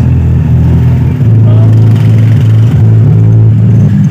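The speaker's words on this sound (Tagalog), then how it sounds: "Ayan, lakas na ng base." A Euroo subwoofer pumps heavy, booming bass at high volume, a loud continuous low throb with pulsing notes that fills the space, with faint voices underneath.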